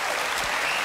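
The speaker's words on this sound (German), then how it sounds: "Leute, hört auf zu klatschen." Studio audience at a German TV comedy show applauding, a steady dense wash of clapping that fills the whole moment with no voices over it.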